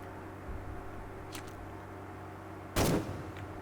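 Gunfire in the video game Conscript, a faint, distant shot followed by one loud, sharp close shot, over a low, steady game background.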